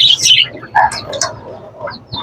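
Pet parakeets chirping while eating corn, loud, close, high-pitched chirps and tweets in quick irregular bursts, with faint background noise.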